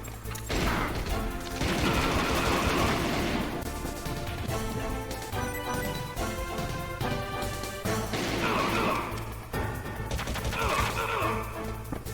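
Dense bursts of gunfire and crashing impacts from the Metal Gear Solid video game pound almost without a break, rising and falling in loudness over a low rumbling backdrop.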